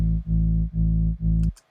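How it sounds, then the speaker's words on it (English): Sidechain-style pumping on a Martin Garrix Animals-type kick built in Ableton Live: a loud sustained low tone that ducks rhythmically four times, then cuts off with a brief faint tail. "It gives it this pumping effect like this."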